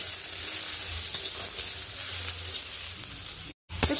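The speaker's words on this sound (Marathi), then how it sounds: "ब्राऊन कलर येईपर्यंत भाजून घेते" Vertically sliced medium onions fry in oil until brown and are stirred, making a steady close sizzle with occasional scraping and a brief gap near the end.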